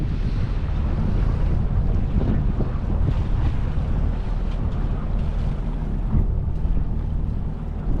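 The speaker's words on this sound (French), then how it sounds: "le moteur à 1000 tours, on avance à 3 nœuds 5" A boat motoring at 1000 rpm at about 3.5 knots near Port-Ligat, a steady low engine drone beneath heavy wind buffeting on the microphone and water wash, continuous and unbroken.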